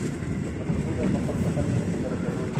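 A KRL commuter train bound for Bekasi via Manggarai pulls out of Kampung Bandan station, a steady mid-distance rolling rumble with wind noise on the microphone.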